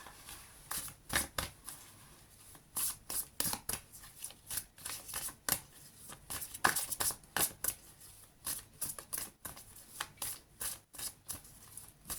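Tarot reading cards being shuffled in quick, crisp riffling bursts with brief pauses between them, close and clear, and no talking.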